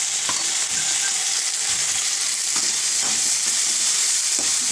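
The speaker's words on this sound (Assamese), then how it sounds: "গোটেইখিনি ফ্ৰাই কৰি ল'ম ভালদৰে" Onions fried until browned, with potatoes then added, sizzle steadily and loudly in a hot pan while a utensil stirs the mix in occasional scraping taps, with no voices.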